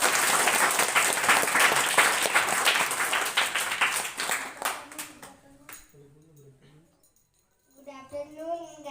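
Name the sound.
loud applause for Shruti at school prize distribution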